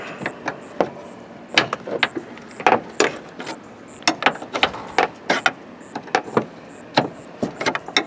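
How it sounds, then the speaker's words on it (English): Wrench turning a tailgate ball pivot loose, a series of sharp close ratcheting clicks and metallic taps in irregular bursts, with no voice heard. "Now I'm going to use a 12mm wrench and undo the ball pivot here in the tailgate."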